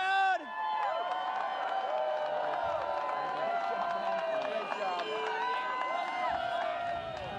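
A crowd claps and cheers for the winner at the Beer Mile World Classic 2023 while whistles and whoops rise above a steady wash of applause. A voice speaks over the crowd.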